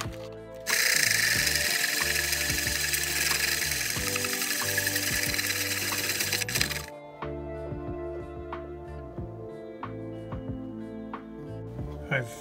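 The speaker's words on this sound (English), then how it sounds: "And now I'm gonna drill holes into the battery so I can run the wires through." A power drill whines loudly for several seconds, drilling holes into a Ryobi 40V battery, then stops, leaving quieter mechanical clicks and handling noises.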